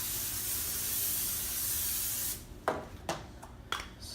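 Ham-flavoured cooking spray hisses from an aerosol can onto food for a baked macaroni and cheese, three short close bursts coming one after another after a steady background of kitchen noise.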